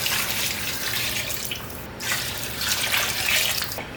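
Water and chicken stock pour into a soup pot for chicken and lentil soup, a steady splashing rush running throughout with slight surges.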